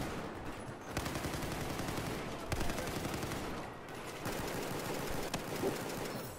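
Rapid automatic gunfire in the first-person shooter Battlefield 4, bursts of shots with brief gaps between them, fairly quiet overall, with players' voices faintly mixed in.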